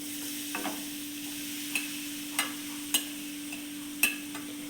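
Grated coconut sizzles softly in hot oil in a pan, with a steady frying hiss under several sharp clicks and scrapes from a spoon stirring it.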